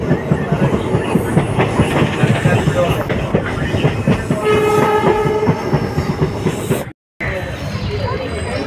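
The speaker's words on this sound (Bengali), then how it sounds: "15 মিনিট লেটে আমাদের train Siliguri intercity express 15768 Mujnai স্টেশনে পৌঁছলো।" Siliguri Intercity Express 15768 rolling loudly and close on the rails, a steady rumble with clickety-clack wheel beats and a brief horn-like tone, running throughout apart from a short dropout near the end.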